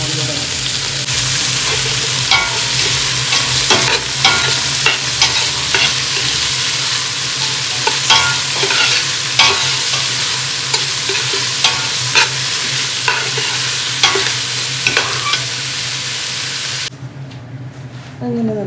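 Vegetables fry in ghee and rice gets stirred in a pan for fried rice, a steady loud sizzle broken by repeated scraping stirs of the spatula throughout, with the sizzle dropping away near the end.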